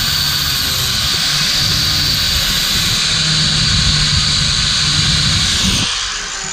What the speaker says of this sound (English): take another little cut if you need to